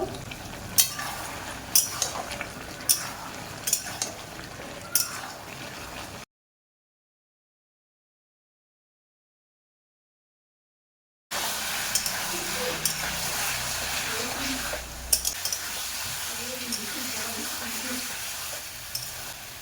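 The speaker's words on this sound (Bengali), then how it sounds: "মাঝে ঢাকনা খুলে সবজিকে কিছুক্ষণ আবারও কষে নেব।" Vegetables with shrimp stir-fried in a pan, quiet continuous sizzling with scraping stirs and spoon taps, broken by a silent gap before the frying resumes louder.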